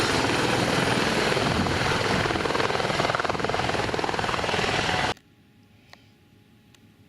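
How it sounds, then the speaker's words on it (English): A helicopter at Iguazu Falls roars loudly with dense rotor noise for about five seconds, then cuts off abruptly, leaving near silence. "opposite is where you get a helicopter to look at the Iguazu Falls"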